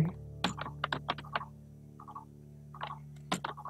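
Keystrokes on a computer keyboard while a document is typed in Microsoft Word, coming in quick irregular clusters with short pauses, close and fairly quiet.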